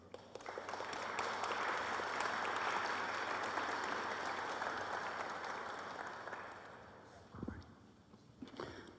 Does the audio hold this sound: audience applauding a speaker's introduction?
yes